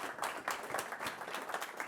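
Audience applause for a pitch presenter at a startup pitch event, a steady soft patter of many hands clapping, fairly faint and without talk.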